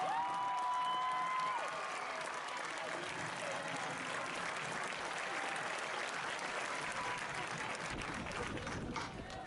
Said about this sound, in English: Let's give a big round of applause to these graduates of Coldwater High School.